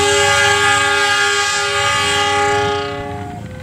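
A loud, sustained horn from the Argo Sindoro train blares close by with rich harmonic tones, then fades as the train moves off, the rumble of cars beneath it.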